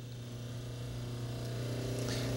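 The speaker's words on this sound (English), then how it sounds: "taking the wheel and just polishing gently on this" A slow-speed dental lab polishing wheel runs on a removable partial denture, giving a steady, close motor hum with a buzzing harmonic tone that holds even throughout.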